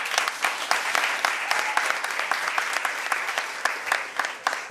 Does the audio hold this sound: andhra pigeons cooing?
no